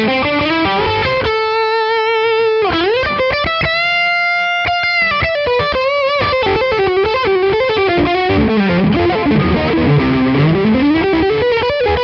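A Fender Modern Player Marauder electric guitar played through its single coil pickup with heavy distorted, effected tone, a loud continuous stream of sustained notes, bends and fast riffs without talk.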